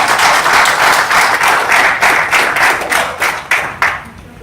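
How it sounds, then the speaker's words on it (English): A seminar audience claps loudly and close, a dense burst of many hands that thins into separate, distinct claps as it fades toward the end. "Clap your hands, people!"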